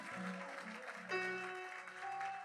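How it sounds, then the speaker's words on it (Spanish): A church congregation claps loudly and steadily during an evangelical sermon, a dense wash of applause running throughout with a sustained musical tone underneath. "Aplaude fuerte a Dios."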